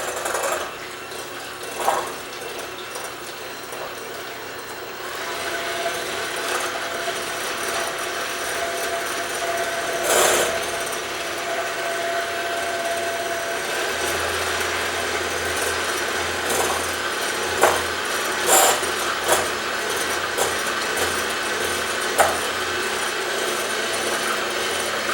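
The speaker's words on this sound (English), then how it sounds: "I don't think I can talk over the beater, so that right now I'm just going to incorporate air into these egg whites" Electric hand beater whipping egg whites for a butterscotch meringue pie, a steady motor whir running continuously with small rattling bumps as the beaters knock the bowl, alone without talk.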